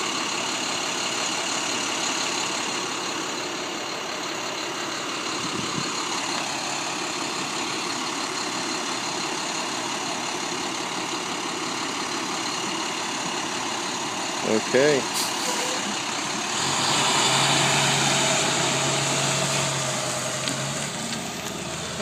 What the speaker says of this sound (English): evidently this is the high school bus